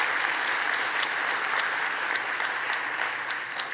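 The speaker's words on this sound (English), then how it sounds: "we still want to give her a round of applause" An awards ceremony audience gives a round of applause, a dense, continuous roar of many clapping hands that holds loud and even from start to finish without talk.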